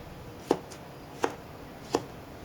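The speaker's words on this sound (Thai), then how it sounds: "หั่นเป็น แว่นๆ ครับ แล้วก็ มะเขือเทศครับ" Knife cutting a tomato into slices on a board, three sharp evenly spaced chops, close and clear against a quiet room with no talk.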